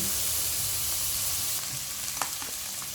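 Pork stir-fried in a hot pan, a steady loud sizzle with a few scraping stirs near the end and no talking.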